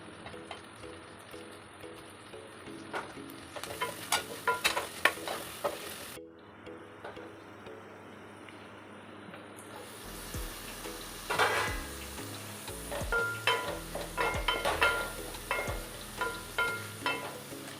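Onion frying in hot oil for a prawn masala fry, with continuous sizzling, intermittent crackles and louder spatter bursts, plus scattered clicks and pan clatter from stirring.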